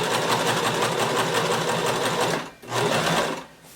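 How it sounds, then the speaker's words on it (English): A sewing machine stitching a skirt seam runs in a fast, steady close whirr, pausing briefly then starting again before slowing to a stop. "So just start sewing, back stitch, and then sew all the way around until you get to your stopping pin."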